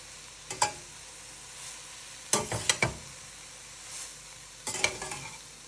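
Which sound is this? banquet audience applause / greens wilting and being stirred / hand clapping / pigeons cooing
greens wilting and being stirred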